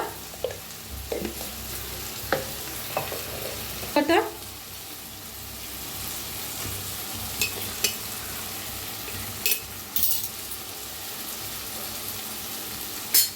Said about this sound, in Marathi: आता कांदा टमाटर चांगलं भाजायला आले, त्याच्यातच टाकूया हळद